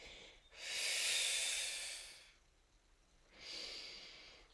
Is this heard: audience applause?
no